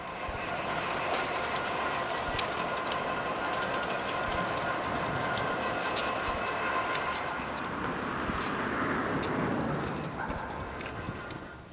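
A Norfolk Southern freight train rolls past, hauled by 5,000-horsepower diesel locomotives, giving a loud, steady rumble with rail clatter and squeal that swells slightly toward the end, with no talking.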